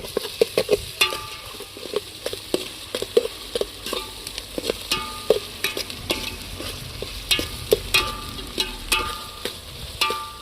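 Garlic ginger paste fries in a pan, giving a close, steady sizzle broken by frequent sharp scrapes and clinks from stirring in an irregular rhythm.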